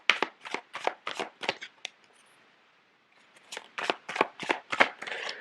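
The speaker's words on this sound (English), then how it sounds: "so let me lay out the cards." Tarot cards laid out one after another for a reading: crisp, close card snaps and slaps in a quick rhythm, then a pause of about a second, then another run of card flicks and shuffling.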